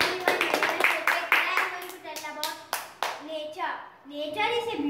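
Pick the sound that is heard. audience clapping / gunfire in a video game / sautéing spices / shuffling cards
audience clapping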